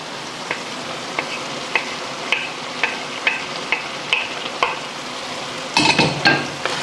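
Red bell peppers being stirred into a pot of simmering chicken afritada: a steady bubbling sizzle with regular light scrapes and clacks of a utensil every half second, then a louder clattering stir near the end, with no voices.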